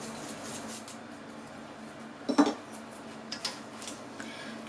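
Cheesecake batter with sifted cocoa gently stirred in a bowl, giving a brief cluster of soft scraping and clinking knocks midway, then a few lighter taps against steady background hiss.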